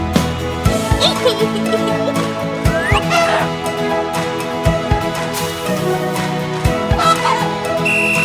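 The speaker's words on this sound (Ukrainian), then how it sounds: "Мама качка кличе кря-кря-кря" Duck-like quacking calls in a children's song repeat over a tuneful musical backing, with bright, rhythmic bursts of sound throughout.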